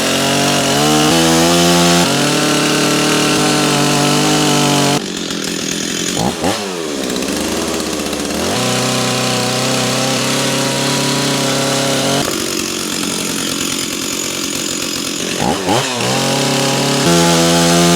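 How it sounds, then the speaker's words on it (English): A chainsaw roars loud and close while cutting wood for a duck carving, running steadily with pitch dips as the blade bites and eases off, then revving back up. "I think we're gonna do that with the chainsaw."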